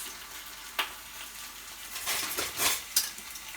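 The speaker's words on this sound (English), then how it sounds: "So we're going to go about 3 to 5 minutes browning." A whole 4-pound chicken browns in an Instant Pot, giving a faint, soft sizzle under a few metallic taps and scrapes of tongs or a spatula, with no voices.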